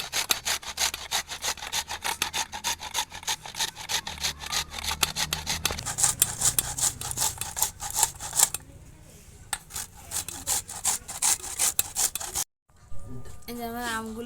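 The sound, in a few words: grating raw mangoes on a fine grater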